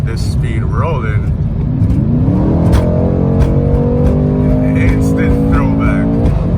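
A Mercedes-AMG luxury coupe floored from a rolling cruise, its engine note climbing steadily and loudly with a rising, sustained roar heard from inside the cabin.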